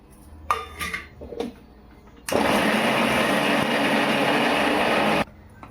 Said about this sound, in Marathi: मिक्सरचा भांडा घेतलाय त्याच्यात आपल्याला बीटचा पेस्ट बनवून घ्यायचा आहे